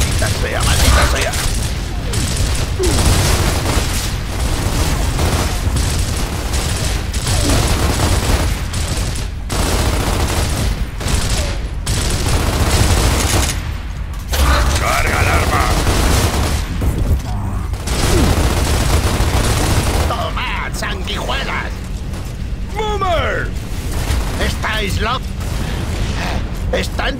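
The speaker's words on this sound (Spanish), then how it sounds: "¡Están disparando!" Heavy gunfire in the video game Gears of War: bursts of rapid automatic shots and clattering weapon mechanisms go on almost continuously, loud and close, while voices shout over the battle.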